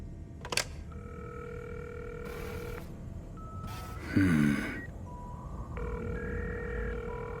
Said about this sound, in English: He calls the number with a little help from Johnny.